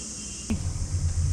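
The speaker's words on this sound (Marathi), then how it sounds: "रातकिड्यांचा आवाज येतोय" Crickets chirp at dawn on a foggy hilltop, a faint, steady high-pitched trill that continues through a brief bump of nearby noise.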